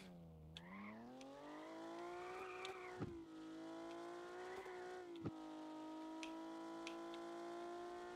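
A car engine in Car For Sale Simulator 2023 hums steadily and revs up as it drives, rising in pitch with brief shifts and a couple of short knocks, close and continuous with no talking.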